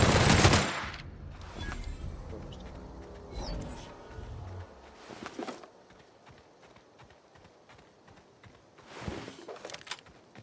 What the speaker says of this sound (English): getting barraged with a bunch of bullets